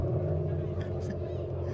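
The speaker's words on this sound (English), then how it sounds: "Were you making the car growl just now?" A growl sound effect played through a speaker in the boot of a Maserati at an Auto Italia car show, a steady low rumble lasting about two seconds with voices talking over it.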